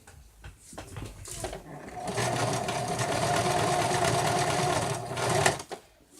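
A sewing machine stitches fabric for a stuffed bear, starting with a few short taps and then running in a steady, close whir for several seconds before stopping.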